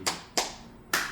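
Three sharp hand claps from a single person in a church gathering, spaced unevenly and fairly close, with quiet between them and no talking.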